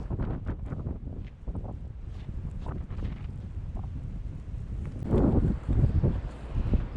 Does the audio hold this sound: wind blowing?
yes